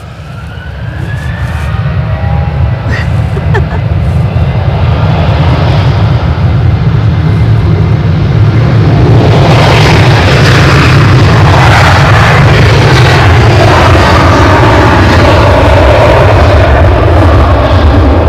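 An airliner at Edinburgh airport spools up to full takeoff thrust, a very loud, close roar that builds over several seconds into a sustained, crackling rumble and stays heavy throughout.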